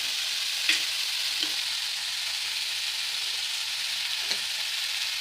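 Grated coconut being stir-fried in a pan for chutney, giving a steady soft sizzle with a few faint scrape taps from the spatula.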